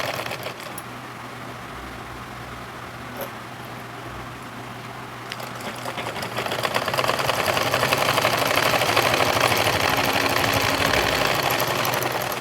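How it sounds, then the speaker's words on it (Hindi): A sewing machine stitches right along the edge of a blouse, running as a fast steady mechanical whir that grows louder and busier halfway through and carries on without talk. "बिल्कुल किनारे सिलाई लगानी है"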